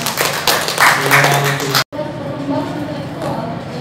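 Applause from the audience at an Indonesian research-proposal presentation, a steady broadband patter that rises right after a brief pause and continues for about two seconds, following a man's speech.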